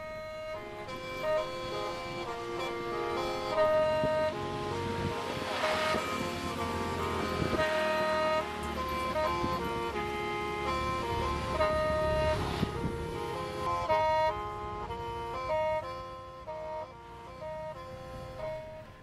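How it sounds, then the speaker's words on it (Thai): A Hmong khaen mouth organ plays a sustained, reedy melody with layered drone tones and shifting notes, moderately quiet, continuous throughout without any talking. "อันนี้นะครับเป็นเสียงจากม้งแคนนะครับ"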